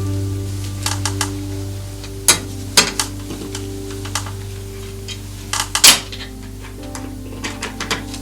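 Nuts being removed from the threaded studs of a drapery bracket, a series of sharp metallic clicks and small scrapes at irregular intervals over a faint steady hum.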